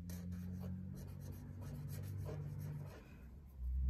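A purple chisel-tip texter pen being written with on paper, giving a soft continuous scratchy rub of steady strokes, close and quiet, with no talking.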